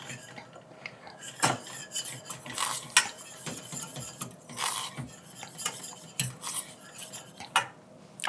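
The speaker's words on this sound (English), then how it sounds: "Just keep whisking because it will get lumpy if you don't keep whisking it." A whisk scrapes and clinks steadily against a pot of thickening cream of wheat porridge made from fresh-milled whole grain flour, with irregular metallic strokes up close and no talking.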